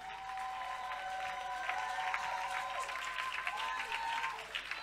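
Church congregation applauding steadily throughout, a dense, continuous wash of clapping with no breaks, with some sustained tones running beneath the applause.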